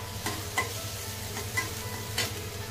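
Onions frying in a pan with a constant close sizzle, punctuated by a few spoon stirs and scrapes at a slow, steady pace, with no talk.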